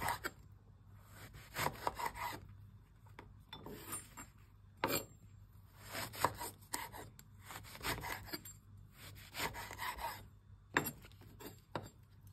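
A very sharp knife slices through thick-skinned white eggplant, giving repeated faint, close rasping cuts in an uneven rhythm, quiet and without talk.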